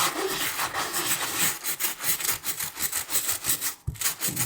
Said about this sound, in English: Now I've got a microfiber cloth to kind of clean stuff off